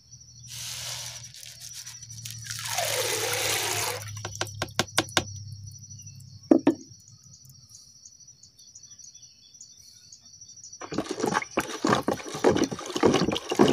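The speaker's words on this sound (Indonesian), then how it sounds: "ini kita larutkan sampai si pupuk kimia ini benar-benar larut dalam air" Chemical fertilizer being stirred into 10 liters of water, with brief swishes and splashes, scattered knocks against the container, and faint insect and bird calls in the quiet background.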